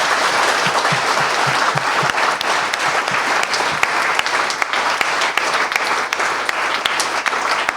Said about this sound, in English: I think they all deserve a round of applause for how they did tonight